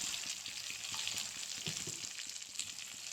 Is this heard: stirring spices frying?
yes